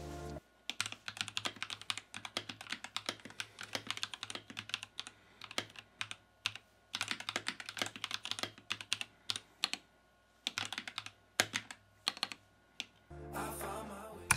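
Keys clatter on an RK84 mechanical keyboard in bursts of fast, close typing with short pauses between runs, and a brief different noise at the very end.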